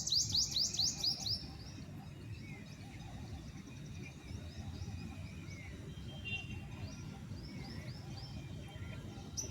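Small birds chirping outdoors, with a quick run of high repeated tweets at the start and scattered fainter calls continuing over a soft steady background.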